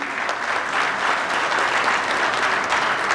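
Crowd applause at the close of a concrete industry expo in Congo, a steady, full wash of clapping from many people at moderate distance, even in loudness throughout.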